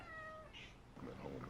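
A house cat meows a few times indoors, fairly close, while a voice talks over the latter part.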